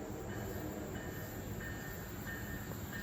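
An Amtrak passenger train rolls past by an abandoned coal town, a loud, steady rumble and roar of wheels on rails with faint squeals and no talking.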